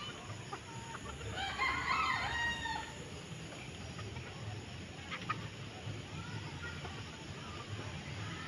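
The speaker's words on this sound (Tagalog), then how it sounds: "Ilang manok kaya yan," A rooster crows once nearby against a faint, steady outdoor background on a farm, followed by scattered soft clucks from chickens.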